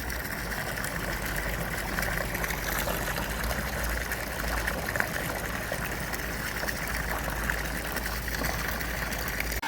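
Water gushing steadily from a newly drilled shallow Abyssinian well at a house outside Kyiv, a constant loud rushing stream without breaks, no talk.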